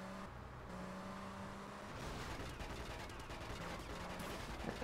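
Rapid gunfire in GTA Vice City, bursts of sharp cracks packed over car engine noise and traffic, building louder toward the end.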